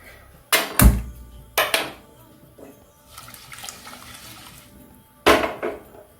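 A cooking pot for Kerala erissery being covered with its lid, giving three sharp metallic clanks spaced over a few seconds, close and fairly loud, with faint kitchen clatter in between.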